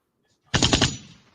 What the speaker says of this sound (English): hey Jake, was that a soundboard gunshot you were doing there?